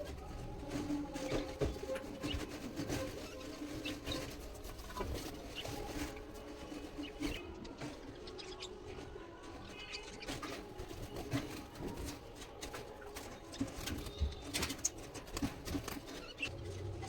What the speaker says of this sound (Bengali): পাখিগুলো লাফালাফি করে এমনিতেই যা।